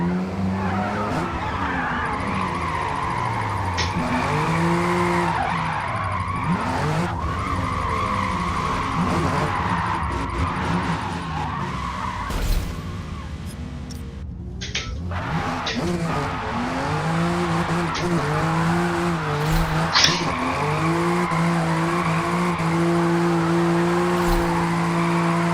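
A Toyota GR Supra A90 drifts in Forza Motorsport, its tires skidding and squealing almost without a break over a loud, steady engine roar that swells and dips with the throttle, with one brief lull midway.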